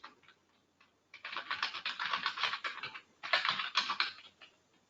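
Typing on a computer keyboard while writing a bash shell script, close and quiet: a short burst of keystrokes, a pause, then two longer runs of rapid clicking.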